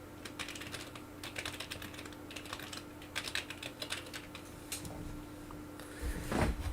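Quick irregular bursts of keystrokes clatter on a computer keyboard at close range, ending with a heavier thump, with no voices.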